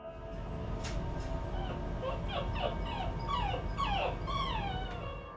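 A dog whimpers and whines in rising, high-pitched yelps, continuous and fairly close, over a steady low rumble of background noise.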